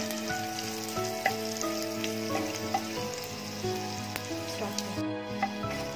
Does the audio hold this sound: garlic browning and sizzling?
yes